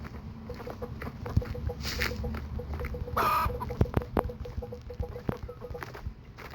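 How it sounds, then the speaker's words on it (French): A chicken clucks in a Roblox garden-growing game, soft repeated clucks and scratchy patter mixed with game sounds and a brief bright chime burst, moderately quiet throughout. "Il a un poulet."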